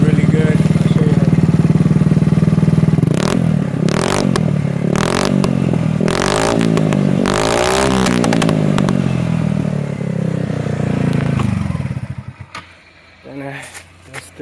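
A Wolf V150 motorcycle fitted with an aftermarket exhaust runs loud and close, its engine revving in repeated bursts over a steady idle before cutting off near the end, with a voice speaking briefly at times.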